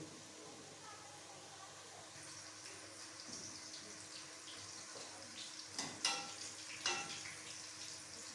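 Boiled potato finger chips frying in oil, a faint continuous bubbling sizzle with occasional sharper crackles and pops growing toward the end.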